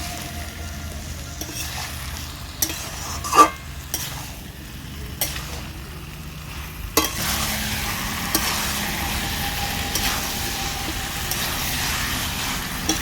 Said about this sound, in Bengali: এবার মশলার সাথে সবজিটাকে বেশ ভালো করে কষিয়ে নিচ্ছি।